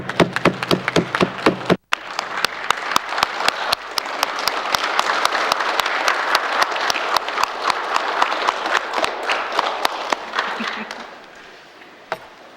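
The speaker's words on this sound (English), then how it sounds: "I would like the House to join me in giving them a round of applause." Legislative assembly members give a round of applause in the chamber, a dense sustained clapping that swells after a brief pause, holds steady for several seconds, then fades out to a final lone clap.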